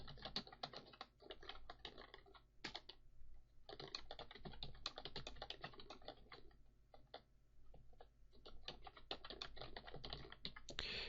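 Rapid typing on a computer keyboard, close and crisp, in bursts of quick key clicks with a few short pauses, quiet overall and with no talking.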